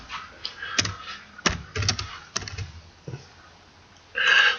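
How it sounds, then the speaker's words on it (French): A word is typed on a computer keyboard, producing several close, irregular key clicks and taps in a quiet room, ending with a brief louder burst of noise. "je vais écrire un mot"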